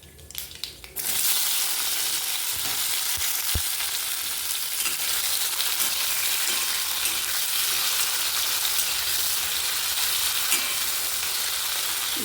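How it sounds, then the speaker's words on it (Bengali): Tomato hits a hot pan of spiced oil with a sudden burst, then fries in a loud, dense, unbroken sizzle, close and steady with no talking. "চলো এবার টমেটোটা দিয়ে দিই"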